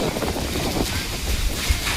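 Strong wind roars and buffets the microphone during a rain and hailstorm, a dense rushing noise, loud and close, blurring any other sound.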